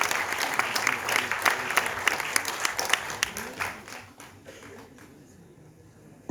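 Audience applause at a Hindi poetry gathering as a poet walks onto the stage, a dense sustained clapping from a large crowd that thins and fades toward the end.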